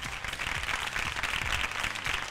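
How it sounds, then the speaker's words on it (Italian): A studio audience claps steadily throughout, a dense, even applause at moderate loudness with no pauses. "facciamo un altro applauso"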